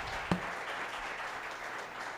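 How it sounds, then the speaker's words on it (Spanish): Applause for panelists at a Costa Rica academic event on public and private partnerships, a soft, steady patter of clapping from a moderate distance with one sharper nearby clap early on. "Por favor, les pido un aplauso."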